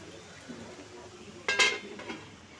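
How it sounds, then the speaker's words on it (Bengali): A metal lid set onto a cooking pan holding fish oil, giving one brief clink and rattle with a fainter tap just after, over quiet kitchen background. "তো ঢাকনাটা আমি দিয়ে দিচ্ছি।"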